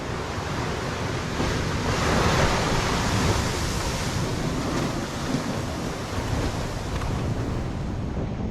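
Ocean waves surge steadily against an island shore, a loud continuous wash of surf that swells slightly midway, with wind buffeting the microphone and no voices.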